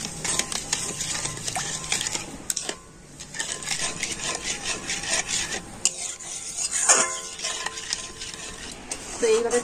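Coconut and sugar mixture being stirred as it boils in a pan: a steady, close scraping and rubbing with a soft bubbling sizzle underneath, carrying on throughout with brief pauses.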